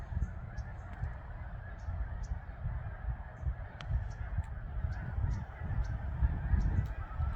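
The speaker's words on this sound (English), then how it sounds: "hopefully you can hear the geese." Geese honk in the open air under a blue sky, short calls scattered through the clip over a steady low rumble, likely a generator.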